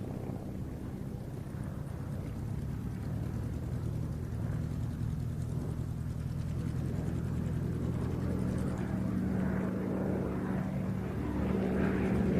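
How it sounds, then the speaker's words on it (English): An aircraft flying an aerobatic display at the Duxford air show makes a continuous propeller drone with a low rumble and wind buffeting, swelling gently in the distance over about twelve seconds. "while we enjoy another aerobatic interlude"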